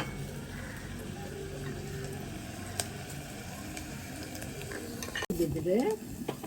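Onions and green chillies sauté in a pan with a soft, steady sizzle and faint stirring scrapes, a sharp click near the end followed by louder frying, and no talking.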